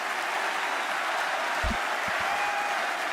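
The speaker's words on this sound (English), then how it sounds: "give him an applause, please" Audience applause during a wrestling Royal Rumble watch stream, a steady even wash of clapping at moderate level with no talk, a few low thumps near the middle.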